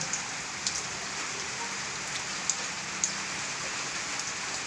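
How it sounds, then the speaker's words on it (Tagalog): Steady rain hisses on a surface during a typhoon, with occasional sharper drip taps scattered through the constant wash; no voices. "Ulan, ulan, ulan."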